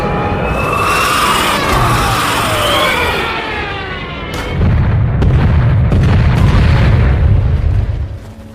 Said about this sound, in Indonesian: tiba-tiba mereka dikejutkan dengan kedatangan pesawat bomber Stuka Jerman yang langsung menjatuhkan bom ke arah mereka